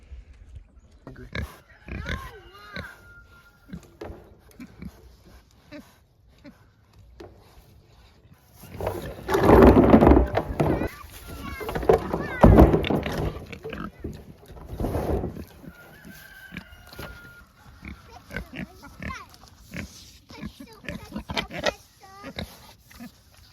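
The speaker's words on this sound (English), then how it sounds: "They are pigs." Pigs grunt and squeal in bursts, louder in the middle, with birds clucking in the background and occasional human speech.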